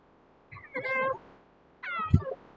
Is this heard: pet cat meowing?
yes